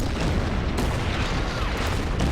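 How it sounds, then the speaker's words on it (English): Artillery shells striking a Churchill tank in the Order of Battle strategy game, a dense rumbling barrage of heavy booms and bursts filling the whole stretch, loud and close with no voices. "I think the artillery will hit the Churchill here"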